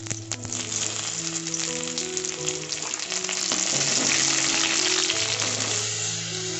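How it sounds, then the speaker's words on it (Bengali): Vegetables fry in hot oil in a kadai for a vegetable dal, giving a loud, steady crackling sizzle that swells as more pieces go in, with occasional stirring noises. "একে একে আমি সব সবজিগুলো দিয়ে সবজিগুলোকে একটু ভেজে নেব।"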